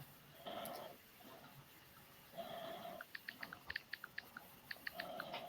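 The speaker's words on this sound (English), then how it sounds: "I'm typing a message right now" Computer keyboard typing in short bursts of quick clicks, fairly faint and close, with a few sharper isolated keystrokes between flurries of softer tapping; no talking.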